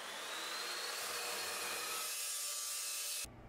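A steady, loud abrasive whine of a power saw cutting steel pieces for a welding cart, holding constant before abruptly stopping near the end.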